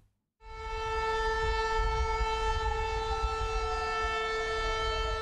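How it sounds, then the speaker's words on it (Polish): Remembrance sirens wail across Wieluń, starting abruptly after a moment of quiet, then holding a loud, sustained, steady siren tone that rings out over the town with a faint low background rumble. "To właśnie te syreny co roku przypominają o tragedii mieszkańców Wielunia z 1 września 1939 roku."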